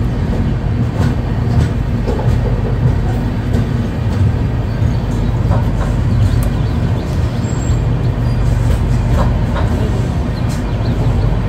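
The 12378 Padatik Express sits at platform 1 of New Cooch Behar station, a steady loud rumble of the train filling the air throughout, with faint station noise.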